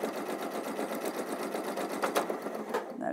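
A sewing machine stitches with sparkly decorative thread, its needle hammering in a fast, steady, loud rhythm that runs continuously with a slight stutter near the end.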